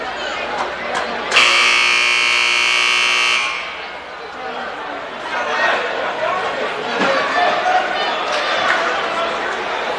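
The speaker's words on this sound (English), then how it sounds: "The buzzer sounds there" A loud, steady electronic buzzer blares for about two seconds at a high school basketball game between Gate City and Rye Cove, ringing over crowd chatter in a gym, which continues after it stops.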